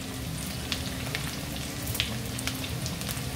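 Curry leaves crackle as they hit hot oil with ginger and garlic for a Kerala-style surmai fish curry, a dense continuous sizzle with scattered sharp spits, close and fairly quiet, no voices.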